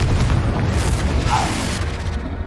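A Confringo spell explosion in the video game Hogwarts Legacy goes off as a loud, sustained booming blast with rumbling low end, filling the whole moment without fading much.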